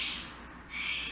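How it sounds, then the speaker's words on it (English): A pet bird calls indoors, a brief faint hooting cry lasting about a second over quiet room tone. "let's wait for my bird to calm down"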